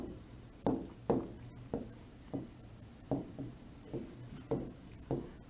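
A definition being written on a board, about a dozen short, faint strokes tapping and scraping at an irregular pace, alone in a quiet room.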